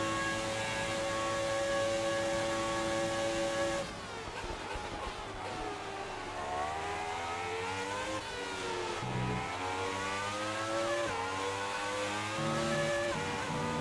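A high-pitched Formula One engine in the video game F1 2018 at the Canadian Grand Prix screams continuously, its pitch climbing and dropping with gear changes and revs, loud and up close throughout.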